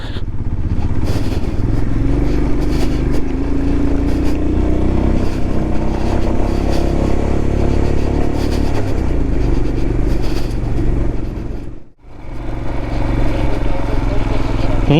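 A motorcycle rides off-road up a rough, dangerous Himalayan mountain road toward a high pass in Ladakh, giving a loud, continuous close engine rumble with rattling and wind that briefly cuts out near the end.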